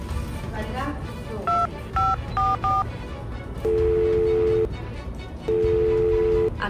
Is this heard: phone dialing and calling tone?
yes